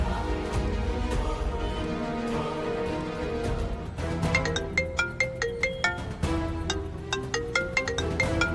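A mobile phone ringtone rings during a Tamil TV drama scene: a bright, repeating melodic tone pattern with a steady pulse enters midway over background music and rings on clearly to the end.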